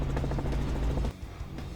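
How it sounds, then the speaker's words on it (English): Helicopter flight over Cobbold Gorge, a steady, loud rotor chop and engine drone heard close from inside the cabin, dropping briefly in level near the end before resuming. "I find helicopter flights more enjoyable as opposed to fixed wing planes, more glass and easier to see."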